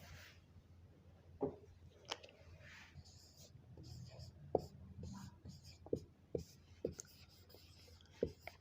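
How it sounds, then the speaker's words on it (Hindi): Chalk or marker writing on a classroom board, faint scratchy strokes and small taps spread irregularly over several seconds, with soft speech murmuring in the background. "उदाहरण ऊपर लिखते हैं यहाँ पे"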